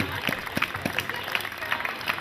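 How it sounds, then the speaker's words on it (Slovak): An audience at a folk festival claps in a loose, uneven patter of individual hand claps, moderately close, with voices mixed in. "Ja nechám kľudne doznieť ten váš potlesk"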